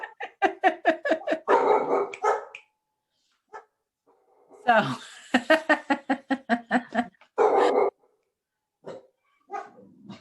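Several dogs barking indoors, bursts of rapid sharp barks with pauses and a few quieter yips between, close and loud, with a brief spoken word among them.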